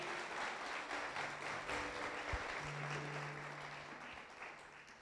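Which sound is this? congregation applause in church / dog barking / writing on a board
congregation applause in church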